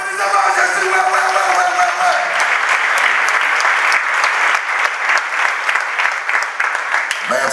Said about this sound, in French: Applaudissez le Seigneur de Jésus